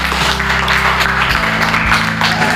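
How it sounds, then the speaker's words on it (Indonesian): Schoolchildren clap in a classroom during a religious studies lesson, a steady dense patter of many hands running the whole time over a low background hum. "Bagus sekali, tepuk tangan."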